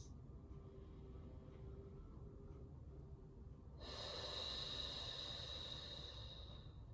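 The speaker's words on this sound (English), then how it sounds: "Two more deep breaths." Deep breathing during a pelvic floor exercise, a long quiet inhale followed by a louder, fuller breath near the mic against a low background hum.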